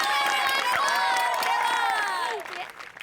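An audience applauds and cheers at a public gathering, a dense wash of clapping mixed with raised crowd voices that fades toward the end.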